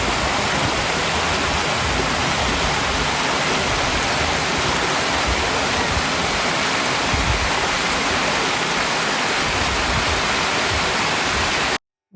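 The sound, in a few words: waterfall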